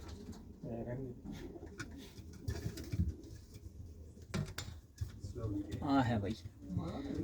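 Pigeons in a loft in Luton, UK, coo repeatedly in soft, rolling calls close by, with faint fluttering and shuffling between them.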